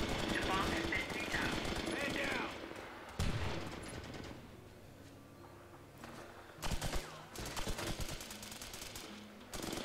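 Gunfire during a match of the tactical shooter H-Hour, a loud burst of automatic fire up front, then quieter intermittent shots and bursts amid background noise, with voices talking over it.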